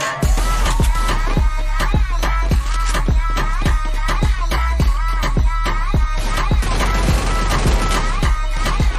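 Rapid bursts of gunfire from the Free Fire battle game, a dense run of sharp repeated shots that stays loud and close throughout over steady background sound.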